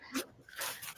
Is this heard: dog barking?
yes